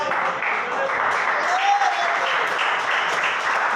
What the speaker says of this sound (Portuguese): A igreja senta-se e bate as palmas para Jesus.